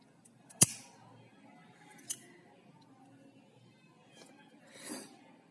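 Scissors snip once through crochet yarn, a single sharp close cut, followed by a few faint soft handling sounds and a quiet rustle near the end.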